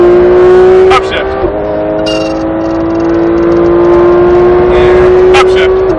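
A race car engine pulls hard at a high, steady whine, breaks briefly at an upshift and keeps climbing. It is loud and close, as heard from the cockpit.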